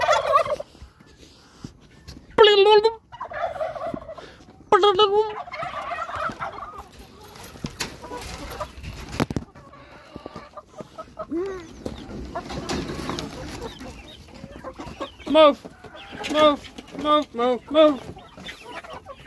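Backyard chickens cluck and squawk nearby in irregular bursts, with a few louder calls rising above a low outdoor background; a person speaks briefly.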